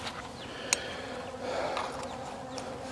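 Honeybees buzz around a feeding jar on a tray, a steady close droning hum with individual bees passing nearby, no talking.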